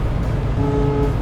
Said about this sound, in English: Good sounding horn.